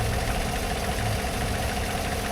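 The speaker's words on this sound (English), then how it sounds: "Let's listen to this motor a little bit." A red Dodge Charger idles, its engine giving a steady, close, even rumble with a faint knocking texture and no voices.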